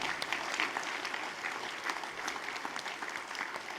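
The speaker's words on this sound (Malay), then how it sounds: "Kita berikan tepukan bergemuruh untuk mereka semuanya." Steady applause from a crowd at a General Assembly, continuous clapping at moderate volume with no voices standing out.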